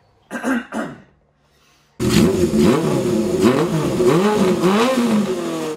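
A motorcycle engine revs loudly and continuously, rising and falling in pitch with repeated throttle blips, after a couple of brief throat-clearing sounds.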